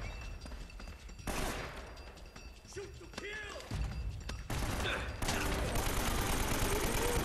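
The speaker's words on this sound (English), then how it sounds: "I'm shooting at your leg." Gunfire rings out in the video game Uncharted: Drake's Fortune, with bursts of shots, thuds and crashes over a dense, noisy game soundtrack.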